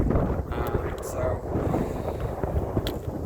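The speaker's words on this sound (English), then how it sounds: "It's definitely got a lot of wind, a lot windier and a lot colder." Strong, cold wind on a mountain hiking trail in Yangmingshan National Park, Taiwan, buffets the microphone in loud, rumbling gusts that roar continuously up close.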